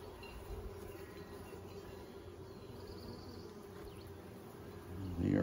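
Honeybees hum in a steady, dense drone from an open hive full of eggs and larvae with fresh comb being built, close and continuous, swelling louder near the end with a brief rustle.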